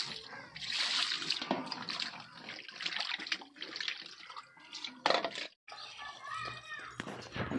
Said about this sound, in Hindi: बढ़िया से धो लेते हैं। रीट मछली है, मछली टुकड़ा कर दिए हैं,